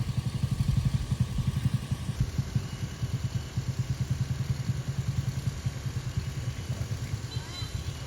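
Motorcycle engines, manual and automatic scooters, chug at low revs with rapid, rhythmic thumping and clattering, bumping slowly over a rough road cleared after a landslide.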